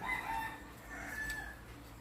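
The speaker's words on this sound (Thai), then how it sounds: "ไก่ขันตอนกลางวันเนี่ย อายุมันจะสั้น" A rooster crows during the daytime at a rural home, a fairly faint call with a couple of drawn-out tonal phrases over low background noise, no talking heard.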